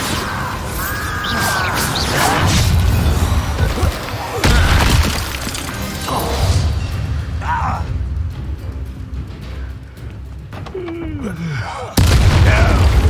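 Bombarda blasting spell going off in the video game Hogwarts Legacy, with heavy crashing bursts rising out of busy game sound, one early and another near the end, while a voice talks over the action.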